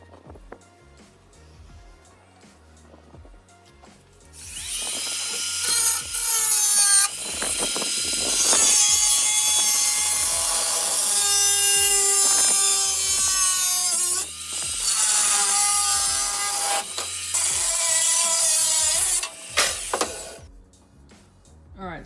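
A loud, harsh power tool cuts scrap 1mm steel sheet during bodywork for a Nissan Micra K11 bonnet. Long sustained screeching passes come after a quiet start.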